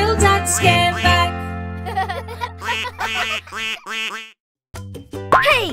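A cartoon duck quacks in a children's song, a series of loud, nasal quacks following sustained musical tones, close and prominent with a brief pause before a final quack.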